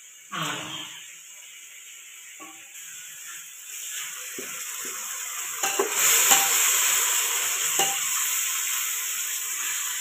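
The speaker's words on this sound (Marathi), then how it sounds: "टोमॅटो मित्रांनो चांगल्या प्रमाणे असं शेकून घ्यायचे तेलामध्ये" Tomatoes cooking in hot oil for a biryani crackle softly while a spoon scrapes and stirs them, with a few clinks, and the sizzle grows louder in the second half.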